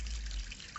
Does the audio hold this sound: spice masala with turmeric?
no